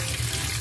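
Tap water runs steadily into a sink while blue turnip is washed, a continuous close splashing flow with no talk.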